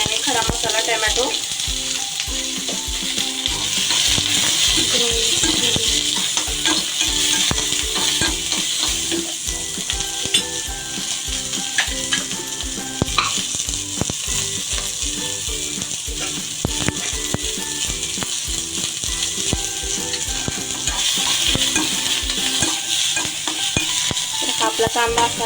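Onions fry in oil for a paneer gravy with a loud, dense sizzle heard up close and without pause. Frequent spoon scrapes and stirring strokes run through the whole stretch, and no voices are heard.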